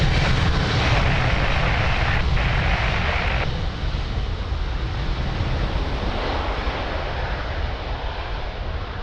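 An airliner departs runway 02 at Lisbon Airport in gusty wind, a loud continuous engine roar that holds steady, then eases slightly as it recedes.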